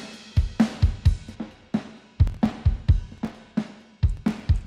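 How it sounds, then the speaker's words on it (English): Drum-like percussive hits in an uneven rhythm, processed through the ChowDSP Chow Tape Model plugin to sound like a degraded, malfunctioning tape machine, with dull, smeared transients and no voices. "that really does sound like a degraded tape machine"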